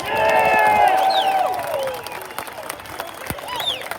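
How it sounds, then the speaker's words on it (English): A crowd at a reparations rally in Washington, DC applauds and cheers loudly, the clapping swelling at first and then fading to scattered claps as a voice carries over it. "Give yourselves a round of applause."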